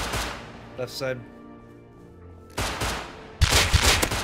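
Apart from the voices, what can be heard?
gunfire in the video game Rust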